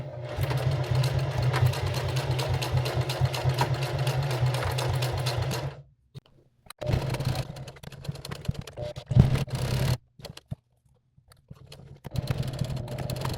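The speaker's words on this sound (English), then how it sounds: "I'm going to use those to sew the lines on the front of this pouch" A sewing machine stitching lines onto the front of a large taco pouch, a fast, even mechanical chatter in bursts broken by short pauses.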